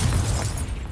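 A Confringo fire spell blast from Hogwarts Legacy, a brief dense boom with crackling burst that fills the whole second, loud and close.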